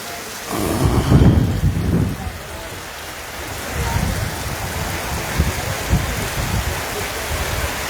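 Heavy rain pours steadily with gusting cyclone wind at Sandwip during Cyclone Remal, and a low rumble swells and fades in waves; loud, continuous storm noise without speech.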